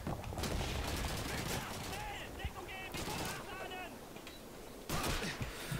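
Gunfire crackles in the World War II shooter game Call of Duty 2, with dense, sustained bursts of rifle and machine-gun shots, some near and some distant, over a constant battle din.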